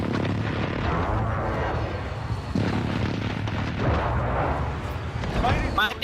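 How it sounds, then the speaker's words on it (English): Precision airstrike explosions in Call of Duty Warzone boom and rumble in heavy, overlapping blasts that fill the mix continuously, loud and dense, with players' voices talking over the barrage. "Precision airstrike."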